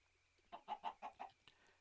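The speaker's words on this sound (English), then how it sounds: "let's take a look at these chickens" Chickens in a farming video game, likely Minecraft, clucking in a short run of about five quick, close clucks followed by a faint final note, with no talk over them.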